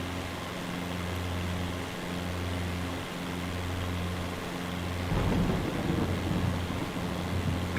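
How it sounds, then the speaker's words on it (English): A thunderstorm in Microsoft Flight Simulator 2020, heard from the cockpit as steady rain hiss over a low, droning engine hum. A deep rumble of thunder swells in about two-thirds of the way through and stays loud to the end, with no talking. "Nothing like flying through the storms"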